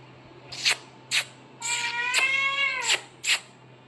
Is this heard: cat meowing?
yes